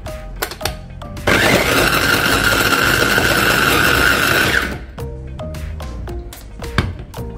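A kitchen blender whirs loudly and steadily for about three seconds, blending yogurt, cherries and banana into a frozen yogurt mix, with softer clatter and handling noises before and after.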